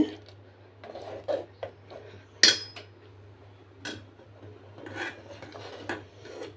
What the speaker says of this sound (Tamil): தேங்காய் சேர்த்துட்டு அப்படியே கிண்டி விடுங்க.